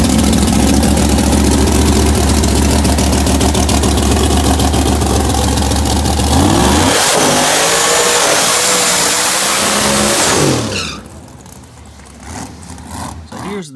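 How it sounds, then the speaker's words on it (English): Loud, sustained engine roar from a high-power car doing a burnout, revving hard for about ten seconds with a dip and rise in pitch before cutting off abruptly, leaving a quieter idle. "This is a video of just a normal burnout, what normally happens when we do a burnout with Randy's car."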